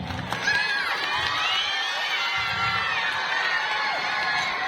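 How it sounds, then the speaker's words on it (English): At a Children's Day school event, students cheer and shout in a lively, sustained roar of young voices after a sports certificate announcement, with little distinct clapping audible. "A huge round of applause for everyone"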